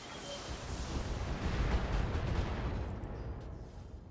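Sustained heavy barrage of mech weapons fire in BattleTech, a dense roar of blasts that swells in the middle and tapers off near the end, loud and without speech.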